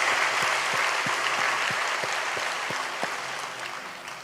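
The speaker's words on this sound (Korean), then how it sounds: "우리 격려의 박수 한번 뜨겁게 주셨으면 좋겠습니다" A church congregation at a Sunday baptism service applauds warmly, steady dense clapping from many hands filling the room, fading slightly toward the end.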